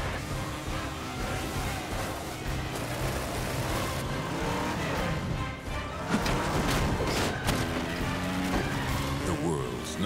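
Off-road racing engines rev in the MX vs ATV Untamed video game, a steady loud roar of motocross and ATV motors that builds and intensifies midway, with brief tire squeal and music-like tones beneath.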